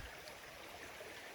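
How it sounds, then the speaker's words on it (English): Babbling brook in Redwoods National Park, a quiet, steady broadband rush and trickle of flowing water heard up close, continuous and even without other sounds. "Just crossing over this babbling brook right here."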